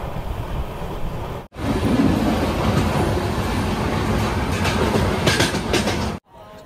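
A new passenger train rolls along the Konkan Railway, heard as a continuous loud rumble with faint wheel clatter. It cuts in abruptly and drops out near the end, with no voices.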